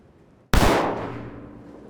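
A single sharp gunshot from a 300 Blackout handgun with a 15-inch barrel cracks loudly after brief quiet, followed by a long decaying outdoor echo.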